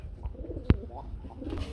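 A pigeon coos softly at a pigeon market selling running Bombay pigeons amid low background market noise, with a single sharp knock partway through.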